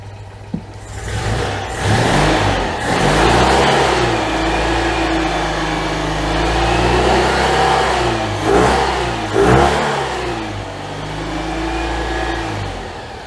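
A Citroen 2CV's small engine runs after a service with freshly adjusted valve clearances, idling steadily and rising into several close, loud revs before settling back down, with no voices.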